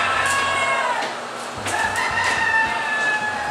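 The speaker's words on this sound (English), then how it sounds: "Inside these units, the chickens have free access to water, to feed, basically everything they need." Chickens in poultry isolation units cluck and call continuously at close range, with harmonic squawks and a crow-like cry over a steady background hum of ventilation, no voices.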